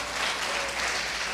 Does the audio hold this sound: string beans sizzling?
no